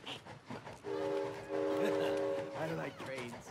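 A train horn in It Takes Two blares in two long, steady chord blasts over rumbling rail noise, with voices talking around it.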